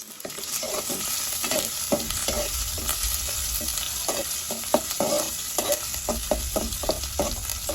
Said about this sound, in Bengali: পরিমাণ মতো তেল দিয়ে চিংড়ি মাছগুলো দিয়ে একটু ভেজে নেব